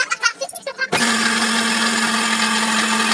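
Mixer grinder finely grinding spices for potlakaya curry, starting abruptly after a second of faint clatter and then running at a loud, steady, high whine with no talking.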